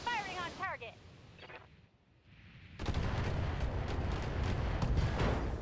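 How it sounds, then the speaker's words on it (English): A BattleTech mech fires a weapons salvo at a Jenner mech: after a brief bit of speech and electronic chirps, a loud sustained barrage of crackling, rumbling fire keeps going for several seconds. "And we'll just fire one salvo at that Jenner and say hello. Firing on target."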